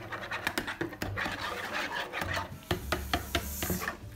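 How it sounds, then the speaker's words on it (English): Scrambled eggs stirred with a mixer, giving a close, steady scraping and rasping with rhythmic scratchy strokes against the bowl, with no talk. "Now we're gonna stir a little more."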